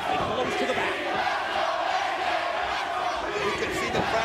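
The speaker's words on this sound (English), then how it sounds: "The crowd right now screaming" A wrestling crowd at a live match roars and chants in a dense, continuous wash of cheering voices, loud and sustained for the whole stretch.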